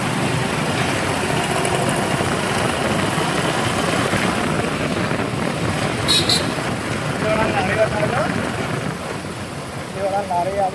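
A motor vehicle ridden slowly makes a continuous buzzing engine drone close by, with people talking over it throughout.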